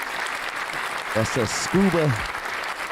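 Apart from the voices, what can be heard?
applause for the podcast guest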